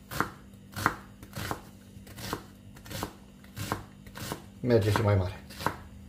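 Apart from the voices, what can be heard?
chopping an onion with a knife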